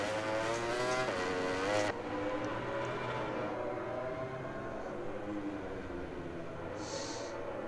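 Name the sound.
Ducati motorcycle racing at COTA in a video game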